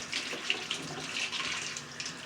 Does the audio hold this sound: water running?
yes